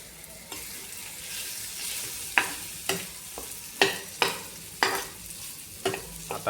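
Tomato chutney with crushed peanut powder sautéed in a pan, a soft sizzle under repeated scraping and clanking stirs of a spoon against the pan, close by.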